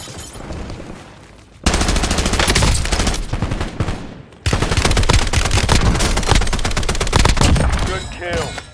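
Dense automatic gunfire from an MPC-25 in Warzone on the Heaven's Hollow map: a quieter stretch, then loud, sustained rapid bursts that keep rattling almost without pause, with several sharp shot clusters near the end.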